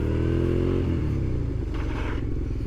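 Motorcycle engine running close and loud throughout while the rider brakes hard on a slippery autumn road, with a steady low rumble that shifts in pitch as the bike slows.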